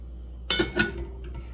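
A lid goes onto a cooking pot of tomato sauce with a couple of quick metallic clinks close by, then a short ringing fade over quiet kitchen background, with no voices.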